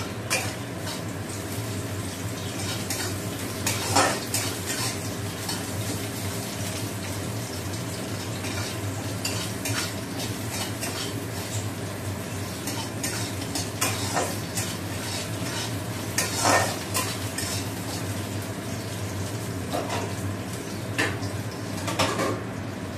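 Fish coated in salt and turmeric sizzling in a pan, steady close frying hiss with occasional stirring clinks and scrapes of a utensil against the pan.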